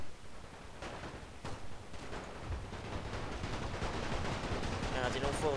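Rifle and machine-gun fire crackle through a World War I video game battle, with sharp scattered shots giving way to dense, continuous gunfire and distant explosions.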